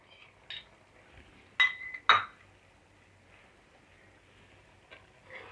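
A metal spoon stirs ground cashew paste into chicken in a kadai, giving a couple of sharp clinks against the pan amid soft scraping, with no talking.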